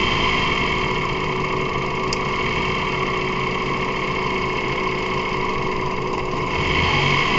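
A 2006 Mazda 3 engine idling with a blown head gasket between cylinders, a steady, close, continuous engine drone with a constant rumble and no clear speech.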